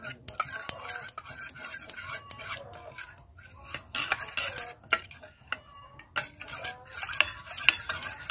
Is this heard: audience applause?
no